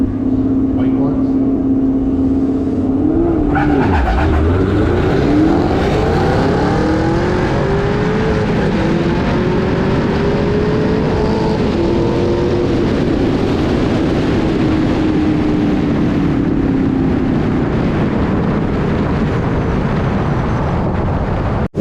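Two white Chevrolet Camaros roar off the line in a drag race, a loud engine note rising as they pull away, then a sustained high-revving drone that fades gradually; no talking.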